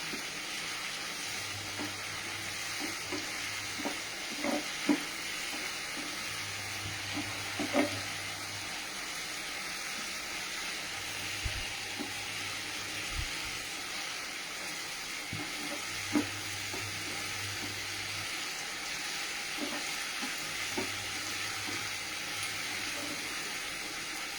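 Spiced masala paste, with the water nearly cooked off and oil starting to separate, fries in a pan with a steady low sizzle, plus occasional clicks and stirring scrapes throughout; no voices.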